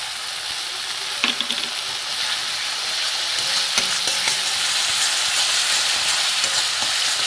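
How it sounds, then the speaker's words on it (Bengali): Spices with turmeric stir-fried in oil in a pan for a Bengali dish, giving a loud, continuous bright sizzle with occasional scraping stirs, close up and with no voices. "দিয়ে আমি ভালো করে এটাকে কষবো, যতক্ষণ না তেল ছাড়ছে ততক্ষণ আমি কষে যাব।"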